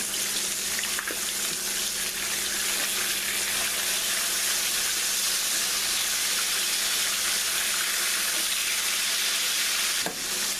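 Pork chops frying in a pan, a continuous loud sizzle of hot oil with a faint metallic clink near the end, steady and close.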